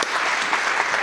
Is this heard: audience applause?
yes